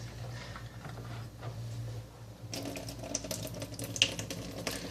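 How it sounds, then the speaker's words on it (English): Liquid from a can of tropical fruit salad drains away, a faint trickle that turns into a brighter, splashing pour about halfway through, quiet and close with no talking. "Calls for a can of tropical fruit salad drained. So we're going to open that and drain it."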